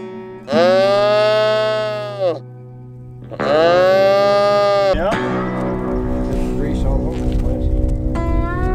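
Cattle on a windy family ranch give two long, loud drawn-out moos, one after another, followed by rough bellowing and animal noise against a steady low drone.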